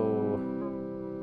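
A Warped Vinyl pedal's ModuShape sine-wave modulation colours a sustained synth-like tone, its pitch bending smoothly with a couple of audible shifts, heard alone without talking.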